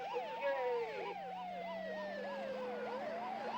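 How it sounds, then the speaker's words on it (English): An ambulance siren wails continuously in a rapid rising-and-falling warble, steady and fairly loud, over a low engine hum. "sends an ambulance racing through the night streets"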